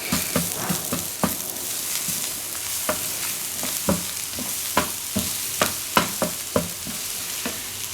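Finely chopped garlic sizzling in a pot of chicken and sausage gumbo, a steady frying hiss broken by sharp scraping knocks of a stirring spoon against the pot at irregular intervals.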